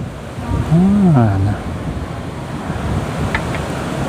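Steady wind rushes with surf noise at Dong Tan Beach near Pattaya on a mid-afternoon, with a brief voice sounding early on over the continuous breezy hiss.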